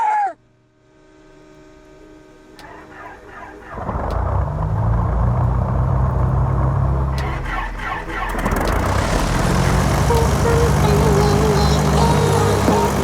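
The twin engines of a Piper PA-44 Seminole start up in Microsoft Flight Simulator: after a quiet stretch with a voice, one engine cranks and catches into a steady loud drone, then the second joins and thickens the roar.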